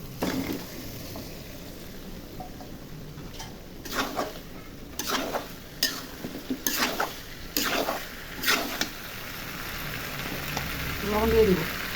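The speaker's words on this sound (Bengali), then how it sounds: "মশলা ভাজা ভাজা হয়ে গেছে, এখন মাংস দিয়ে কষিয়ে নিব।" Broiler chicken pieces frying with spices in a pot make a low sizzle, broken by a run of rhythmic scraping and clattering stirring strokes against the pot.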